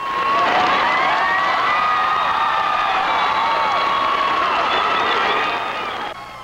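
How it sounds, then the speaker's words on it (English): A theatre audience at the Amundsen Theater in Los Angeles erupts as the final curtain falls on the closing performance of a musical, a sustained roar of cheering with piercing whistles that fades slightly at the end. "The crowd went wild when curtain came down for the last time at the Amundsen Theater this evening."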